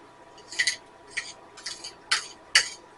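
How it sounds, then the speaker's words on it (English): A utensil stirs a butter topping for a cinnamon sugar apple cake in a bowl, making five short, bright clinks and scrapes spaced about half a second apart over a quiet background. "stir it up really good. A good mixing so you don't have any bare butter in there."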